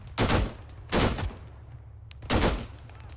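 Gunfire in the military shooter game Arma 3: three short, loud bursts of rapid automatic shots with pauses between them and a faint single shot in the middle.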